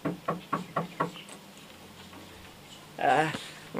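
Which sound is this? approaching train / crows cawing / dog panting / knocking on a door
knocking on a door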